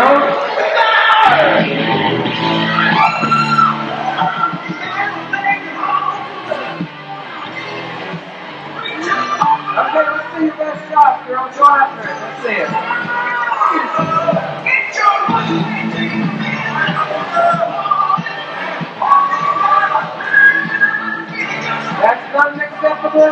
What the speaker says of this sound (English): That's not an acceptable noise level for a Michigan crowd.